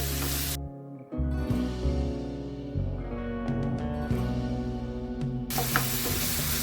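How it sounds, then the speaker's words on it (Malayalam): Onions with salt sautéing in a pan during clam fry preparation, a continuous close sizzle and hiss with soft stirring scrapes, a few brief clicks midway. "സവാള ഒന്ന് വഴന്ന് കിട്ടാൻ വേണ്ടിയിട്ടുള്ള ഉപ്പിടണം കേട്ടോ"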